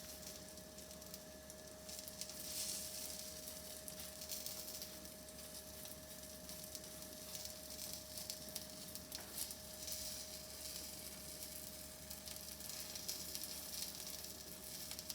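Chicken, feta and spinach gozleme frying in olive oil, giving a continuous close sizzle and crackle that holds steady and even throughout, with a faint steady tone in the background and no talking.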